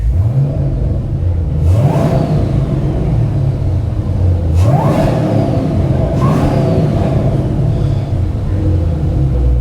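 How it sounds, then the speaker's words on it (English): 2013 Chevrolet Camaro ZL1 with an LSA engine, wrecked, revved three times, each rev rising sharply in pitch then falling back to a steady idle, loud and nearby. "We'll give her a couple of revs here."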